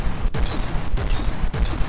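Naval weapons firing in the vehicle combat game From The Depths, a dense rumbling barrage of overlapping booms with a few sharper cracks that stands out clearly.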